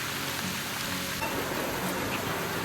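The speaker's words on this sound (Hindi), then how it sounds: "आज जंगल की अंदर बारिश," Rain falling in a jungle beside a river, a dense steady hiss of drops on foliage and surfaces, continuous and fairly loud throughout with no talking.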